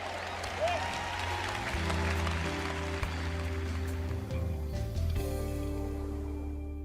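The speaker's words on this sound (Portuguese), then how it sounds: "Vamos aplaudir, louvando ao nosso Deus." Audience applause at a Portuguese-language church sermon, a dense steady patter of many hands clapping throughout, with sustained musical tones underneath.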